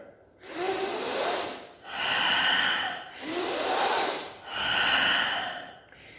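Bhastrika pranayama breathing, rapid forceful breaths with equal inhale and exhale, close and loud, four even breath cycles in steady rhythm, with no talking.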